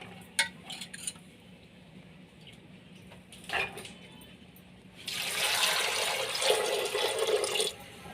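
A potato being rinsed under running tap water in a kitchen while making ghugni, with a steady broadband rush of water from about halfway through after a few light clinks and handling knocks.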